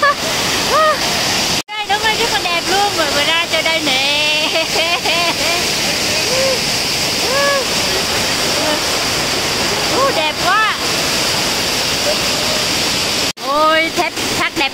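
The Thủy Tiên waterfall roars in a loud, steady broadband rush close by, while people talk and exclaim excitedly over the constant water noise throughout.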